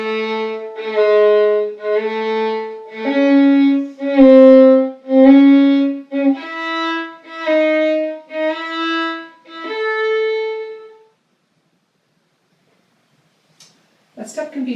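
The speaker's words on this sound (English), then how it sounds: "So on Wolfart 46, it would sound like this." Bowed string instrument playing the Wohlfahrt No. 46 etude with each note preceded by a slurred grace note, a steady sequence of clear sustained tones for about ten seconds before stopping, followed by silence and a brief noise at the end.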